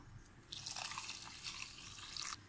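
Half a cup of water is poured onto crushed jaggery in a pan to melt it for parippu pradhaman payasam, giving a faint, brief splashing trickle that lasts about two seconds.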